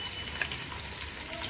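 Prawns sizzling in hot oil for prawn pulao, a steady, faint crackling fry with fine popping and no voices.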